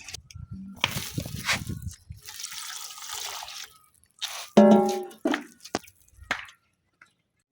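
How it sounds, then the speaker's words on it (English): Water splashes and trickles into a pot of matooke bananas being prepared for steaming, in uneven bursts of pouring and dripping with pauses between, fairly close. "So the next step was adding in water and see how it gets ready for fire."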